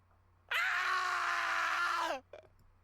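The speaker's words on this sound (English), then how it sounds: "Kusaka screams." A male character in the Kara no Shoujo visual novel video game lets out a long, loud, anguished scream lasting about a second and a half, then falls silent, followed by a short faint gasp.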